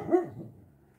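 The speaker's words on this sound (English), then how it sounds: "the dog is barking" A dog out in the snow gives one close, sharp bark that quickly fades, with no talking over it.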